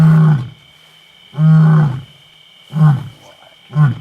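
Close, loud lion grunts in tall grass at night on an African safari, four deep bursts in a slow sequence with pauses between, over a faint steady insect hum.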